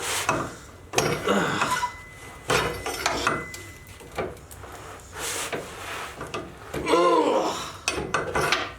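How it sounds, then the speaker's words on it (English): A pry bar levering a shackle bolt out of a Jeep suspension, with close metallic scraping, grinding and clanks in irregular bursts, including a squeaking, straining rasp near the end. "let's see if I can get my pry bar in there and pop this bolt out."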